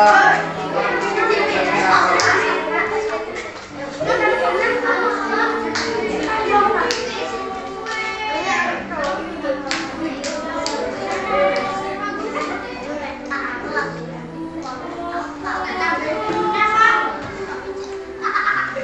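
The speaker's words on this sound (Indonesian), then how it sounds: "Beri tepuk tangan untuk kelompok Nakula." Classroom of fifth-grade pupils at SD Negeri Sambiroto clapping for a student group after a drink-making activity, a busy patter of small hands mixed with children's chatter and an adult voice talking throughout.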